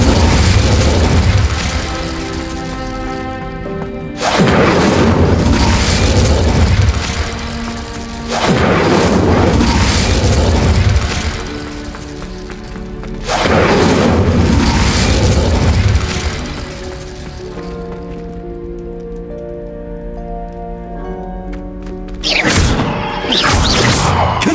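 Incendio fire spell blasts in Hogwarts Legacy: a series of loud booming explosions, each a roughly three-second burst of roaring flame followed by a fading tail, repeating about five times with quieter gaps between.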